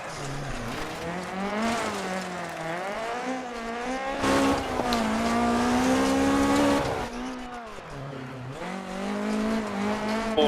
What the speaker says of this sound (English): you'll hear the accelerator just modulating up and down as control the back end out